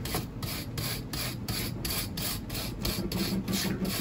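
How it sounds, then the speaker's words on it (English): A brass brush scrubs carbon off a metal surface in quick repeated back-and-forth rasping strokes, steady and close, with a furnace running in the background. "I just give it a quick rub"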